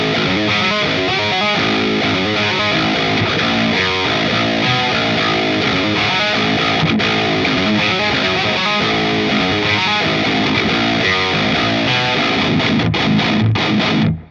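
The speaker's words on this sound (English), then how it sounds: "Let's hear the Dark Flame." Electric guitar driven through a Joyo Dark Flame modern metal distortion pedal, heavily saturated chugging riffs with rhythmic palm mutes, loud and sustained, stopping abruptly at the end.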